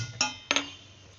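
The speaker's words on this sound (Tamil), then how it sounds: "கடாயும் அடுப்பு ஆன் பண்ணிக்கலாம்." A metal kadai pan is set on a kitchen stove, making two quick, close metallic clinks a fraction of a second apart, followed by a faint ringing tail.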